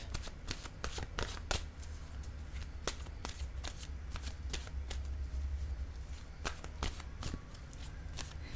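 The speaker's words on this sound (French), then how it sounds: "je vais piger une carte de mon oracle de l'âme intuitive" A deck of oracle cards is shuffled by hand in a steady, continuous riffle of papery slaps and flutters, close and fairly quiet, with no talking.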